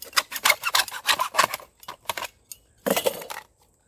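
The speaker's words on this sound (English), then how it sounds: "Then take this piece is going to be your insert, and we're going to cut right through it." Plastic drainage pipe for a French drain being cut through, heard as a close run of crisp, irregular snipping and crunching bursts that pause briefly and then finish with a final cluster of cuts.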